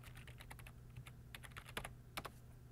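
Someone types on a computer keyboard, a faint, close run of irregular key clicks with short pauses, entering a value, with no talking.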